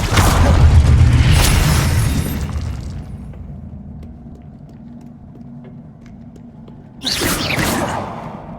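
A Confringo fire spell blast in Hogwarts Legacy bursts loudly at first and fades into a low hum, then a second sharp whooshing burst hits near the end.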